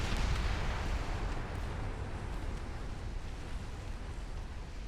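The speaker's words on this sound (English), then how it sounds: "Oh, that's a flash fire." Warship flash fire explosion in the naval game Ultimate Admiral Dreadnoughts: a dense, rumbling roar of booming fire and blast noise holds steady and loud for the whole few seconds, with no voices over it.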